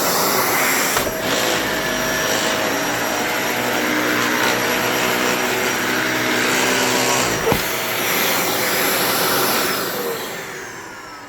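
An old, foul-smelling vacuum cleaner hums steadily at close range, a continuous drone with a brief bump partway through before it tapers slightly toward the end.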